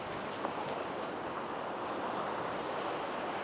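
Waves break against a rocky shore at Amakusa in Kumamoto, a continuous hissing wash of surf mixed with wind, moderately loud and unbroken, with no voices.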